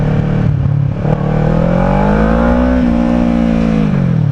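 A motorcycle engine revving hard and loud, its pitch climbing in a steady sweep as it accelerates, close by and continuous, with no talk over it.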